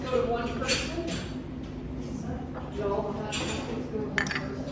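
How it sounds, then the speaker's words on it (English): Dishes and cutlery clink intermittently in a tea room inside an 1868 house turned Norwegian import shop, with several sharp bright clinks scattered over steady background chatter from people talking nearby. "so there's always the background of the dishes."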